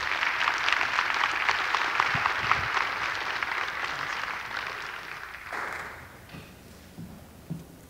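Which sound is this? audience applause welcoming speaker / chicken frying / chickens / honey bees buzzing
audience applause welcoming speaker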